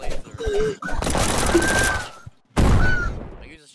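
Shotgun blasts in a video game: two loud, broad booming bursts, the first long and rolling and the second sharp and sudden, separated by a brief quiet gap.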